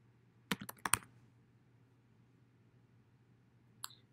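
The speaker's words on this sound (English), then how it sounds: "And you'll type in you just put Dynamix Pro." A few quick keystrokes on a computer keyboard in a quiet room, a short cluster of soft clicks followed by silence and then one last tap.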